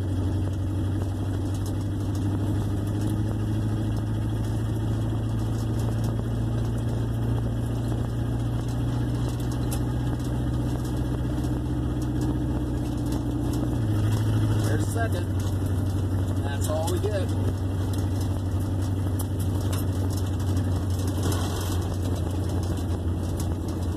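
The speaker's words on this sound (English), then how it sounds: "I don't know how much you're going to hear me over this engine because it's running right off the Y pipe" A 1958 Plymouth engine idling with the exhaust running straight off the Y pipe, a loud, steady low rumble that holds throughout, with someone talking over it.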